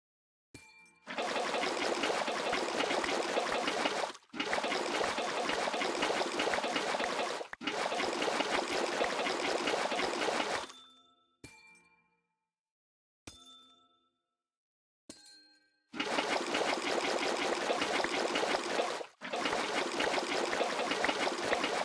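Water poured from buckets in Minecraft gushes in several loud bursts of about three seconds each, separated by short gaps with small clinking clicks.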